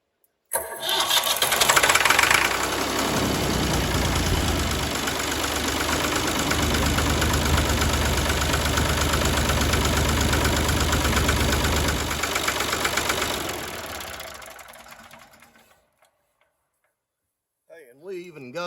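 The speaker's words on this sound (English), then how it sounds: "So hopefully now the tractor will start if we've done our job correctly." A Massey Ferguson tractor diesel engine with a newly resealed CAV injector pump cranks, catches and runs loud and close with a steady knocking idle for about twelve seconds, then shuts off, followed by a brief voice.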